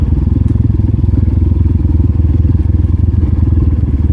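Dirt bike ridden along a bush track, its engine a loud, steady, close-up throbbing chug that continues without a break, with a rattling clatter over it.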